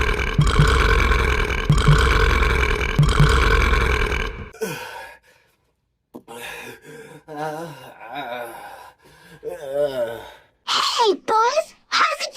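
A long, loud, grinding burp rumbles for several seconds, followed by a child's gasps, sighs and talk.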